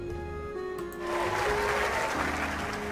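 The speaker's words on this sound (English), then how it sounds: "the comedian bows and everyone erupts into applause" A comedy club audience bursts into applause after the show: near silence gives way to a swell of sustained clapping that stays steady to the end, with faint voices underneath.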